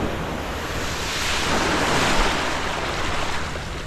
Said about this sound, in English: Tide's coming up, so these waves are getting a little more brutal by the minute.